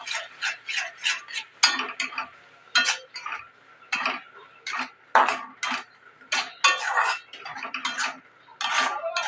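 A spatula clacks and scrapes in a pan as pointed gourd paste is mixed into fried spices, rhythmic close clinks and scrapes with short pauses, no voices.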